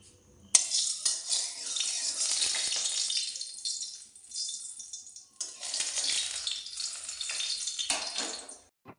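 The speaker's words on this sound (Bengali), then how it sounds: "তেল গরম হয়ে যাবার পর এতে দিয়ে দিচ্ছি শুকনো লঙ্কা আর 5 ফোড়ন।" Dry red chillies and five-spice seeds hit hot oil with a sudden loud sizzle that crackles steadily, dips briefly, then surges again as frying continues with faint clinks of a utensil.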